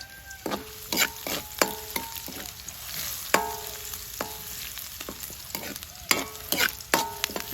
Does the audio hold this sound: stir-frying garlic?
yes